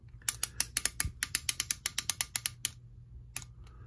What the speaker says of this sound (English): there's got to be some kind of band mechanism or clamp in there that's winding, like a spring that's winding up